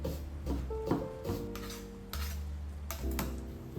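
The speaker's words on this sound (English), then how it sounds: "Dicing a red onion." A knife dices a red onion on a cutting board in a kitchen, giving a few sharp taps followed by steady muted cutting with some background hum.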